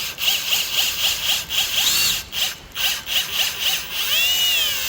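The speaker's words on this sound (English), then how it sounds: "try to just use it on my drill and brush out the inside" A drill spins a wire brush inside a rusty control arm from a Nissan 200SX S12, a loud close whine rising and falling in repeated short bursts with scraping.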